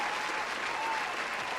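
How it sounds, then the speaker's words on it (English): Steady crowd applause fills the whole moment as a dense, even wash of many hands clapping, used as an audiobook sound effect, with no pauses or single standout claps. "The crowd clapped."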